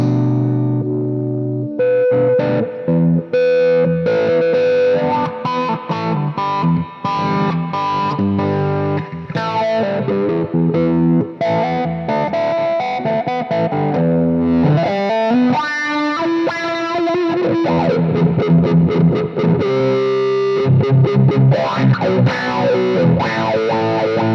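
Electric guitar run through a favorite wah-wah pedal, with distorted, effects-heavy chords and lead lines sweeping in tone, playing continuously and loud for the whole stretch with no talking.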